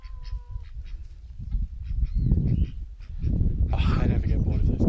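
Ducks and guinea fowl calling close by, with nasal honking quacks and raspy squawks that overlap in a loud, busy chorus, joined by a brief voice near the start.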